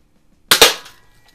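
A Healthways Top Score spring piston BB pistol fires a single shot with a sharp snap, followed almost at once by a second short crack as the BB strikes a can, close and loud against a quiet background.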